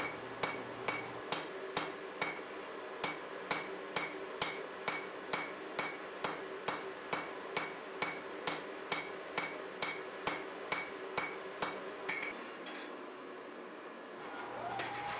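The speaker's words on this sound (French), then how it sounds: "L'étape suivante consiste à allonger le bloc à l'aide d'un marteau-pilon." Power hammer drawing out a forge-welded Damascus steel block with convex dies, striking in a fast, even series of loud metallic blows that stop near the end, leaving a faint hum.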